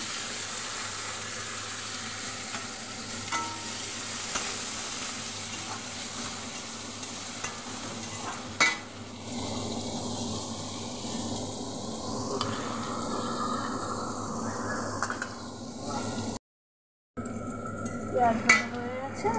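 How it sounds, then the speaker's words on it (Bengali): Onions frying in oil with a tempering of cumin, bay leaf and dried chili for dal, a low steady sizzle with occasional stirring clicks and scrapes, close by, a short gap of silence near the end, no speech. "পেঁয়াজের ডালে জিরে, তেজপাতা, শুকনো লঙ্কা ফোড়ন দিয়ে পেঁয়াজটাকে ভালো করে ভেজে নেব।"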